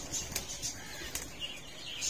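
Quick bursts of pigeons' wings flapping as they take off and settle on a rooftop, a few brief flutters spread over a couple of seconds, fairly close with faint chirps.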